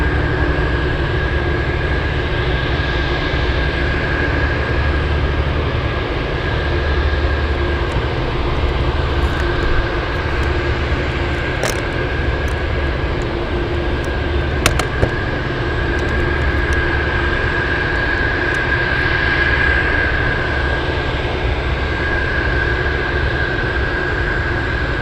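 A Delta airliner taxis at Anchorage airport, giving a continuous, steady jet engine drone with a constant tonal hum. It carries on unbroken throughout at moderate distance.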